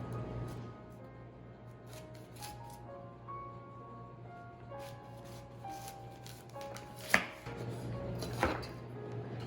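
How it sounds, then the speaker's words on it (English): A knife slicing through a whole cauliflower into thick steaks with the stem left intact, steady soft crunching and cutting near the board, with a couple of sharper cracks as the blade breaks through. "I'm just going to be cutting it."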